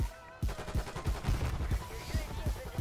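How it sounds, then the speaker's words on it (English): Rapid, heavy hand cannon gunshots fire in quick succession, loud and punchy, over a dense background of Black Ops 6 game noise. "shoot your hand cannon"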